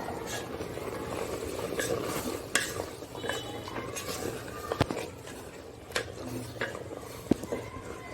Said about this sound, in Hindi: इसको अच्छे से हिलाना है।